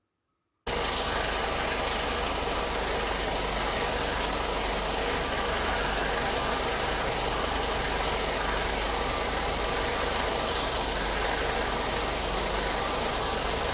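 A 1992 Mercedes 190E 2.0 with KE-Jetronic fuel injection idles in a steady, loud, continuous drone that starts abruptly after a brief silence and holds even throughout.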